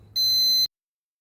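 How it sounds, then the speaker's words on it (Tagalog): A sari sari store alarm sensor gives a single loud, shrill electronic beep lasting about half a second, close and alone, then cuts off to silence. "Mag-alarm siya."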